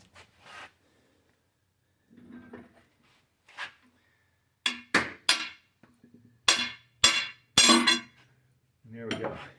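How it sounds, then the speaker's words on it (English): A regular hammer knocks a cam bearing from a Ford 351W engine block, with scattered sharp metallic strikes, a few loud close blows clustered near the end, alongside faint handling noises. "I'll get a regular hammer."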